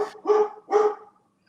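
A dog gives two or three loud, close, gruff barks in an uneven rhythm, with short silences between them and no talking over them.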